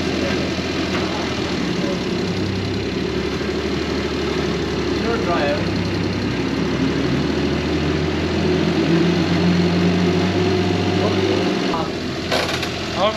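A cable car's drive engine in Swat Valley, Pakistan, runs steadily with a deep, continuous rumble throughout, then cuts off near the end, while people talk nearby.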